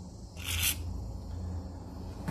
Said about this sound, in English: We're going to take our penetrating oil, PB Blaster, and shoot a little in here.